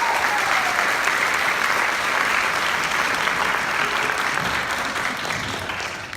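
Audience at a seventh grade middle school band end-of-year concert gives sustained, dense applause, loud and even throughout, tapering slightly toward the end.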